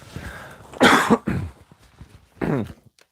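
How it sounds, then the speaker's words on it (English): A single harsh cough close to the microphone, followed by a couple of smaller throat-clearing coughs after brief pauses. "excuse me, I have to cough"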